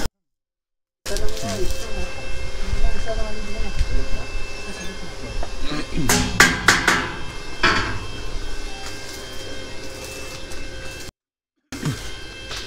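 A grinder runs at a work site in Batangas, a loud continuous harsh whir with rattling bursts midway, cutting off briefly near the end while voices talk over it.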